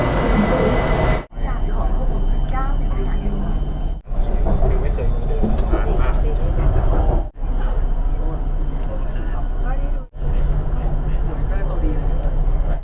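Loud continuous rumble and rolling hiss of a Bangkok metro train arriving at a station, with screeching wheel tones and several brief gaps, under ongoing chatter from people nearby.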